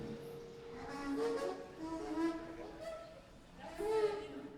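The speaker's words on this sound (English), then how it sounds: "That's the escalator at Farragut North. It kind of sounds like whales mating." An unlubricated escalator at Farragut North squeaks and moans in a few wavering, tonal cries that slide up and down in pitch. They are moderately loud, with faint background noise.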